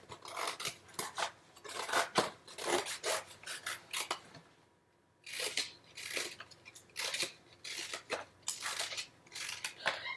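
Scissors snipping through paper while a pineapple shape is cut out for a children's fruit-basket craft, with quick, close rasping cuts in uneven bursts and a brief pause midway.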